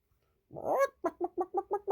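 A long nasal quack opens, then six quick, evenly spaced quacks follow in a steady rhythm, close and clear against silence.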